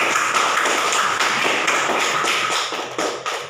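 A sixth-grade primary school class claps together: steady, dense applause that fills the room for several seconds, with no voices over it.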